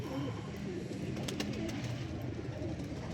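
A pigeon coos nearby, low throaty burbling calls rolling continuously over a constant background hum, with a faint chirp or two mixed in.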